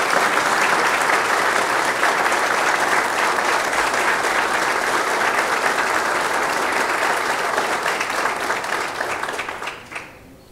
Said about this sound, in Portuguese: Gostaria agora que todos os novos adesguianos recebessem o aplauso dos presentes